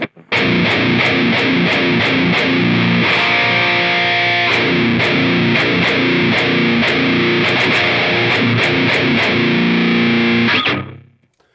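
Heavily distorted electric guitar plays loud, thick chords and riffs continuously for several seconds, then cuts off into silence.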